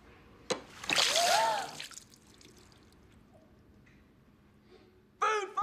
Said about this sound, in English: I've just thrown water into Nisha's face